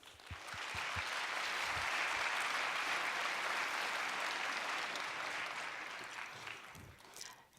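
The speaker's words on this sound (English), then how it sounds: "So let's give all of the winners a round of applause." Audience applause for competition winners at an AI conference, a dense, sustained clapping that swells quickly, holds steady for several seconds and then tapers off, with no speech.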